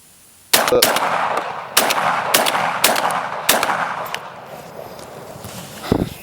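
A Benelli M4 shotgun fires Hornady Critical Defense buckshot outdoors at a range in a quick string of about six loud, sharp blasts, each with a short echoing tail, followed by a faint clatter near the end.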